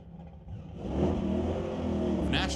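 A 1969 Acadian bracket drag race car's engine fires up and builds into a loud, rising rev, close by, with a muffled public-address voice talking underneath.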